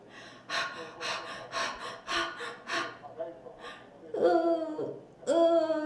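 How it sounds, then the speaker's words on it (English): A person acts out distress with rhythmic, breathy panting bursts, followed by two drawn-out moans rising at the end. "This is a panting sound and a moaning sound and screaming sound either."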